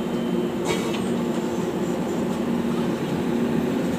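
The CSMT Amritsar Express rolls past at close range as a dense, steady roar of wheels and carriages, with faint rhythmic clatter and brief metallic squeals, continuous throughout and without talk.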